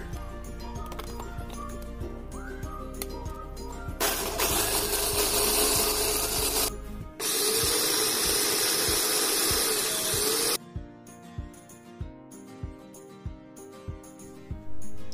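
A kitchen blender grinds lemongrass and spices with a little water, two loud sustained whirring bursts of several seconds each, with a short pause between, then a rhythmic series of brief pulses as the grinding finishes.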